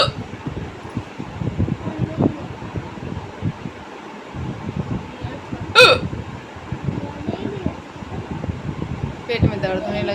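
A person with a stubborn bout of hiccups, aggravated by acidity and stomach pain, gives one sharp hiccup midway, over a steady fan-like hum with bits of nearby talking.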